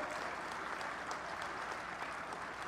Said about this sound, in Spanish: a quien le brindo un fuerte aplauso